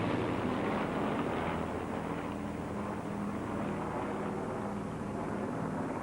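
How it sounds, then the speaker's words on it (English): The Battle of Britain Memorial Flight formation of a Lancaster bomber flanked by a Hurricane and a Spitfire arrives at the Royal International Air Tattoo, Fairford, as a distant, steady drone of piston engines with wind buffeting. "this is the arrival of the Battle of Britain Memorial Flight, with the Lancaster in front, the Hurricane on the right"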